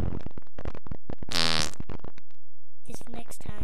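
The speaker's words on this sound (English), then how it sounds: "Why is there a little fart noise?" A short cartoonish fart sound effect pops up in the Roblox game Bear, a low buzzing blip between bursts of excited talk and game noises.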